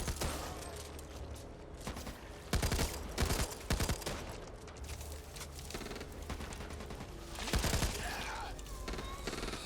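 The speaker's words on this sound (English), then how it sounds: "Machine gun." Machine gun fire in the shooter video game Back 4 Blood comes in loud, rapid bursts, with several separate volleys across the stretch and game noise between them.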